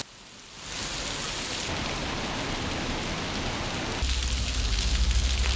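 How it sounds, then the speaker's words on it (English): Heavy rain pours steadily outside a church, a dense, continuous hiss that swells slightly and grows heavier toward the end, with no voices. "Just started raining."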